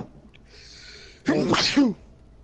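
A single loud, close sneeze in a Little Nightmares game session, a sharp two-part burst lasting about half a second after a quiet stretch.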